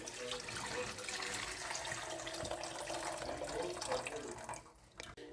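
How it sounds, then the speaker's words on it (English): Liquid roast juices from a crock pot slow cooker pour into a pan in a steady splashing, gurgling stream for several seconds before tapering off, close and without speech. "you're going to pour the juices from the crock pot into a pan"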